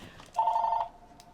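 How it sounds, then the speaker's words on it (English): A telephone rings once in a short, loud electronic burst after a quiet room, then the room falls quiet again. "that's my phone."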